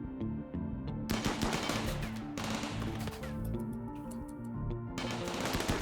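Heavy SMG gunfire in RimWorld, a dense run of rapid automatic shots and impacts layered over in-game music, moderately loud and steady throughout.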